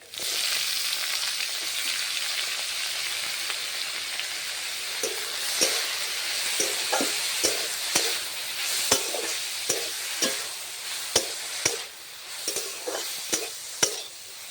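Cabbage and carrot fry in a pan with a steady, close sizzle, while the stirring utensil scrapes and taps against the pan in irregular clicks through the second half. No one speaks.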